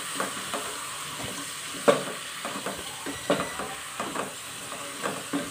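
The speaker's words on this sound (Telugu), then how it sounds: "వాటిలో ఆనపకాయ ముక్కలు కడిగి పెట్టుకున్నాం కదా, వాటిని వేసుకోవాలి. వీటిని బాగా కలిసేటట్టు కలుపుకొని" Washed bottle gourd pieces fry in a pan while being stirred, giving a steady soft sizzle with repeated scraping and clinking strokes at a close, moderate level, alone without voices.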